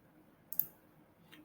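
A single quiet computer mouse click while running an ANOVA in SAS software, a sharp press-and-release snap over faint room hiss, followed by a softer tick a moment later; no one talks.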